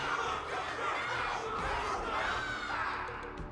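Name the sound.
crowd cheering in Honkai Star Rail video game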